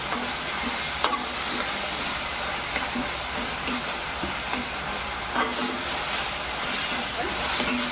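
Pasta masala cooks in a pan for breakfast pasta, giving a steady close sizzle broken by occasional scraping stirs of a spoon against the pan, with no talk.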